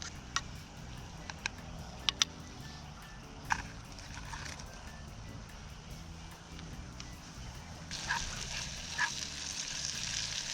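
Chopped tomatoes and onions fry in a pan over a campfire, giving a faint steady sizzle with scattered small clicks and a slightly stronger hiss toward the end.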